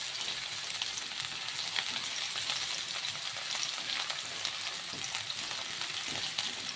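Garlic and onion sautéing in a pan for a squash and long-bean coconut stew, a steady dense sizzle with scattered crackles and faint stirring scrapes, continuous and close throughout.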